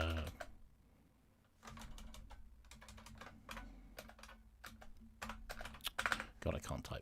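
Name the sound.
typing on a computer keyboard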